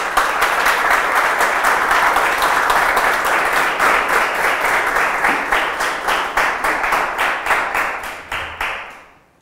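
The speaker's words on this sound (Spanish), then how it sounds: "Dale un aplauso al Señor que te invitó." A church congregation claps and applauds loudly and steadily, the dense applause thinning into scattered claps and fading out at the end.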